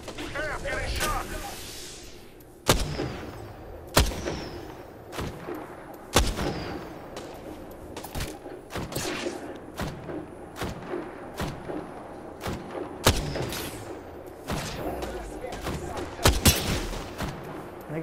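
Apex Legends gunfire rings out in sharp, repeated bursts and single shots, mixed with thuds and game effects, while a player talks intermittently over the action.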